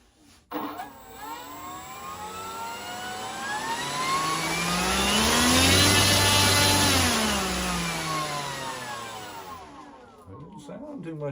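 An electric motor on a Top Hobby FW-190D radio-controlled model plane is run up in a throttle test, rising to a loud whining peak and sliding back down, with a slight wobble from imbalance.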